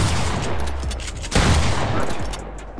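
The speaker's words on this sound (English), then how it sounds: "My gun's auto-shooting again!" Rapid automatic gunfire from a gun in a video game, a loud, dense fusillade of shots that swells in the middle and carries on to the end.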